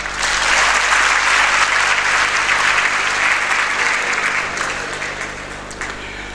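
A convocation audience claps steadily in a large hall, a dense sustained wash of applause that holds loud for several seconds before tapering slightly toward the end.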